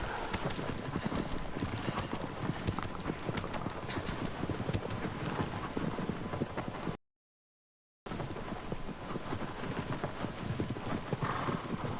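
Horse hooves clip-clopping on the ground in the video game Shadow of the Colossus, a steady close trotting rhythm that continues for several seconds, breaks off briefly into silence, then resumes.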